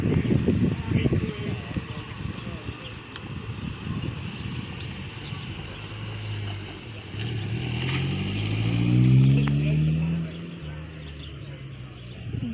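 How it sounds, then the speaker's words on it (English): An outdoor car gathering at a country inn, where a Ford Popular drives past with a rising, swelling engine note. People talk throughout and birds are faintly audible. "here comes what I believe is the Ford Popular."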